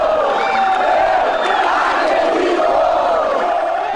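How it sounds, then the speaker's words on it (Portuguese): Atlético Mineiro football fans chanting in the street as the team bus appears before a match at the Mineirão, a loud, dense crowd singing together in sustained unison, close and energetic throughout. "Quando o ônibus surgiu, a torcida cantou."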